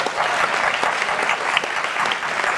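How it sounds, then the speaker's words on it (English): Steady round of audience applause at a community dialogue event on the opiate crisis, many hands clapping together in a continuous, fairly loud wash with no talk over it. "I think we can give that another round of applause."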